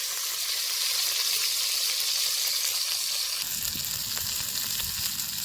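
Chicken livers and gizzards sizzle steadily in a hot Dutch oven used as a skillet over a camp cooking setup, a dense continuous frying hiss close by, with a slight shift in texture partway through as the food is stirred.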